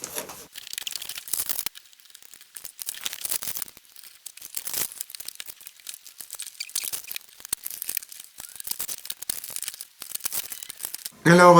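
Cardboard boxes of Sailor Moon figurines being torn open, with repeated bursts of ripping and crinkling packaging, close and fairly quiet, spread irregularly throughout.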